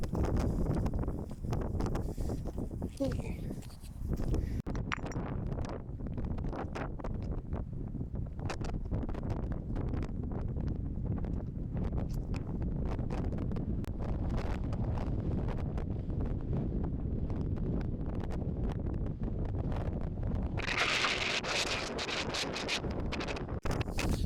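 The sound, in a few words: strong wind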